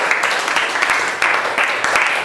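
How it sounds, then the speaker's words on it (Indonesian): A classroom of students applauds a classmate with continuous, fairly loud clapping that holds at an even level throughout, with a few sharper claps standing out. "Tepuk tangan untuk teman kita,"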